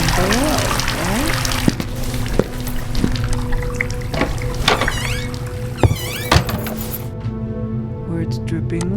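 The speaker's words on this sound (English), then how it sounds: "It's dripping water." Water drips and trickles steadily, with a few louder splashes and a constant wash of noise underneath, while voices are heard at times.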